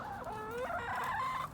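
Backyard hens cluck in a drawn-out, rising and falling call while being fed frozen tomatoes, heard close and clear against a quiet background with no talking.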